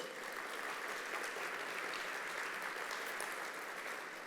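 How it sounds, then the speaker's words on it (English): Chamber of commerce business-event audience in San Antonio gives a round of applause for its title sponsor, an even wash of many hands clapping at moderate distance, sustained and fairly quiet. "How about a round of applause for Joris?"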